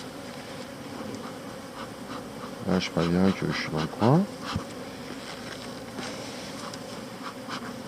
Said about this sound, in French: les abeilles